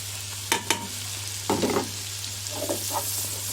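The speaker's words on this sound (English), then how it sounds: "And now we're going to add the onions." Onions and carrots cook in butter over fairly high heat, with a soft steady sizzle under a low hum, punctuated by a few sharp utensil clatters and stirring scrapes nearby and no voices.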